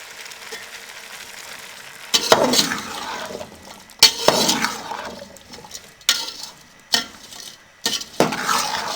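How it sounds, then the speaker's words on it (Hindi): Ingredients and black pepper powder being stirred in a pan for desi-style Chinese rice, with a quiet background sizzle broken by bursts of scraping and clattering from the spoon against the pan. "अब इसको हम अच्छे से मिक्स कर लेंगे।"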